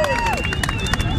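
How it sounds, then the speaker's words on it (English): A crowd at a water ski show cheers and claps in a brief loud burst, with a whistle-like tone over the noise. "And the crowd goes wild."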